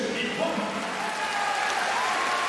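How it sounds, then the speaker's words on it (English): A large arena crowd at the 2019 World Judo Championships cheers and claps in a dense, steady roar that holds for the whole stretch without a break. "a big cheer goes up here for Nagiyama"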